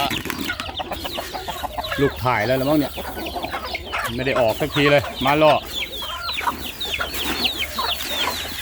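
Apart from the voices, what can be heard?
chickens clucking on a chicken farm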